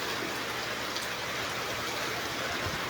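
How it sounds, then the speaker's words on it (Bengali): Steady rain pours down throughout, a dense continuous hiss of falling water with scattered drop patter, evenly loud and without any voices. "আরে বৃষ্টি"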